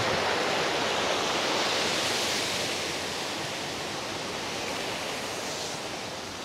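Tuktuk Falls, a waterfall in Barangay Halang, Amadeo, Cavite, pours with a steady, broadband rushing roar that fills the air continuously from start to end, with no voices over it.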